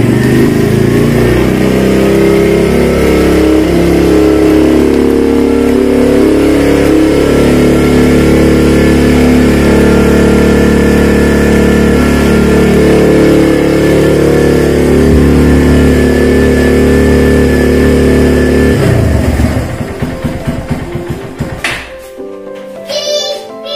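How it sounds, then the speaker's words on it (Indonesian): A Kawasaki W175 motorcycle engine with the choke on runs steadily with a loud, even mid-range drone for most of the time, then falters and cuts out in uneven sputters toward the end; no speech. "Kita naikkan kembali cuknya untuk mempermudah dalam melakukan starter"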